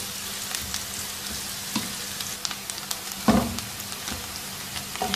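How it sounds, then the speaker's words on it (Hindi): Finely chopped onions, two medium-sized, frying in a pan for a chicken boti masala, a steady soft sizzle with scattered crackles and an occasional louder stir or clink, close up and with no talking. "इतनी देर तक इस प्याज को पकाएंगे कि इसका रंग हल्का सुनहरा हो जाए।"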